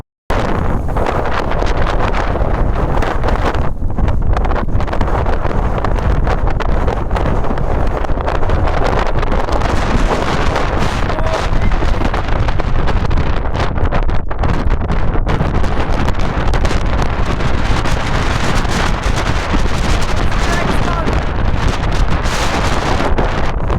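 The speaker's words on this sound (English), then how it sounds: "Oh my days, it's so windy on the other side of this wall." Strong, continuous gusting wind buffeting the microphone on an exposed mountain ridge of the Fairfield Horseshoe, loud and roaring throughout with no break.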